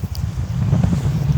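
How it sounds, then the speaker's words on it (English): Strong wind by the river at the Bund, buffeting the microphone in a continuous low rumble with gusty swells and no talking. "It's very windy over here by the river."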